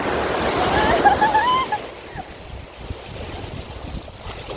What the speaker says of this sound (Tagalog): At ang laki pa ng mga alon.